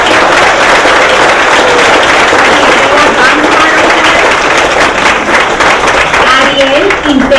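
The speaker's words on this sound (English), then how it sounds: "a big round of applause for our honorees this year, Stephanie Aguiano" Loud, sustained applause from a large crowd at an awards ceremony honoring recipients, steady clapping throughout with some voices mixed in.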